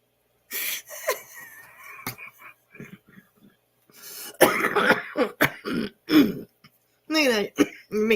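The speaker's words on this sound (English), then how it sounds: "Look at that. Make me cough." Someone clears their throat and coughs several times in rough bursts, mixed with breathy sounds and brief speech nearby.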